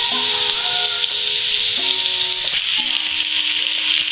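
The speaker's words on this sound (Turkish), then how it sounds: "Tekrardan diğer tarafının kızarmasını bekleyeceğim." Potato slices frying in a pan with melting kaşar cheese on top, a steady loud sizzle and hiss throughout, with faint tonal kitchen sounds layered over it and no speech.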